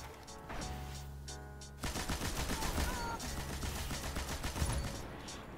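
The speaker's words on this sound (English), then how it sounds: "I have my machine gun out too" Rapid machine gun fire in the Destiny video game, sustained bursts of dense shots after a brief lull with a short tonal blast, loud and continuous with other gunfire mixed in.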